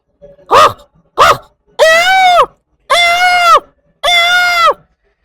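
A man imitates a peacock's call: two short sharp yelps followed by three long, loud, nasal wails, evenly spaced and close.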